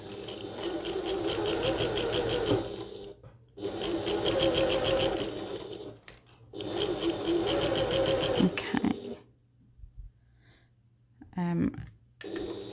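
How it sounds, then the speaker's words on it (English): A sewing machine stitching a bucket tote bag runs in three long bursts of rapid mechanical whirring separated by short pauses, followed by quieter handling sounds and a brief final rattle, with no talking. "Just sewing."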